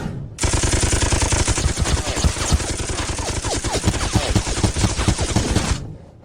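A sustained volley of gunfire from a line of soldiers firing on command, dense overlapping shots crackling continuously for several seconds, loud and close, then cutting off abruptly.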